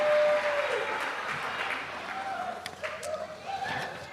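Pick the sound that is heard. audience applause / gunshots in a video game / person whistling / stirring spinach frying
audience applause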